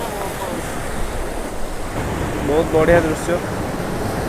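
Big sea waves crash against rocks in a broad, continuous washing roar mixed with wind buffeting the microphone, swelling louder near the end as someone speaks over it.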